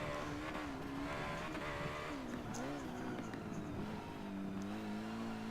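A race car engine downshifting on track in Forza Motorsport 7: a loud, steady engine drone jumps and dips in pitch as gears change into a corner, with someone talking over it.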